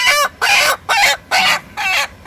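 A chicken, five days after having its beak trimmed, gives five loud, evenly spaced squawking clucks close to the listener.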